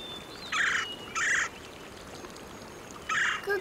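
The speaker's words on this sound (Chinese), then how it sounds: "是臭姑姑" A hoopoe calls outdoors: three separate short hooting bursts, two close together and one after a pause, clear over a faint steady background.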